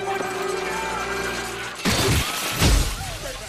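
A sudden heavy crash of very thick glass shattering cuts in over a steady background hum, followed by a second loud smash a moment later.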